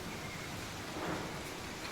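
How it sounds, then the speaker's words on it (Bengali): Steady rain pours down in a dense, even hiss with a low rumbling undertone, continuous and fairly loud throughout. "বৃষ্টি নেমেও গেছে, দেখো বৃষ্টি পড়ছে"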